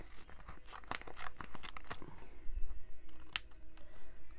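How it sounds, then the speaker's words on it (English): Scissors snip through a piece of leftover decal paper at a craft table: a quick run of close, crisp cuts with light paper rustling between them. "So all you're going to do is cut off a piece."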